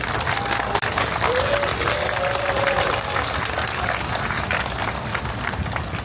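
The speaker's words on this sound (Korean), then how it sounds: "이해식 의원님 다시 한번 큰 박수 부탁드리겠습니다." Crowd at a rally against repurposing a school site applauding on cue, a dense, steady burst of clapping that holds for several seconds, with faint voices and a brief whistle-like tone beneath.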